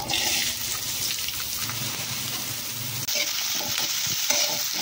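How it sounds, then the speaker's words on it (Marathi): Chopped onion goes into a hot kadhai of spluttering mustard seeds in oil, producing a loud, continuous sizzle with stirring scrapes that shifts slightly partway through. "मोहरी तडतडली मी कांदा टाकते।"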